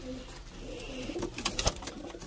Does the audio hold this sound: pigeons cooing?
yes